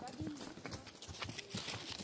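Hooves of donkeys on a countryside walking path, clip-clopping in a steady rhythm close by, heard under continuous talk.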